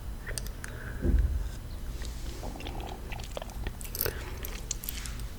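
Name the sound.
biting and chewing a crunchy snack from a jar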